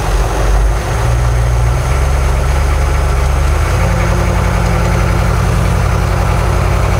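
A Hummer H1 military-style vehicle's engine running close by, a loud, steady low rumble with a deep throb that shifts pitch slightly as it pulls away, continuous with no talking.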